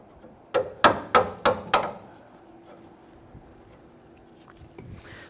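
A notched wrench on a brake hose fitting of a 2005–2021 Nissan Frontier's left rear brake is tapped five times in quick, even succession, sharp metallic knocks close by, followed by quiet.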